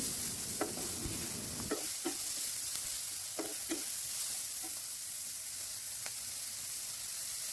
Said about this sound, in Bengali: তো এখানে আমি পেঁয়াজগুলো ভালোভাবে ভেজে নিতেছি।